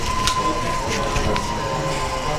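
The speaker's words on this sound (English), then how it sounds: "The high pitch sound you can hear, that's the motor." A small fan motor driven by a 480 Hz PWM signal gives off a steady high-pitched whine, heard as a continuous tone over a noisy, rumbling background with faint talk.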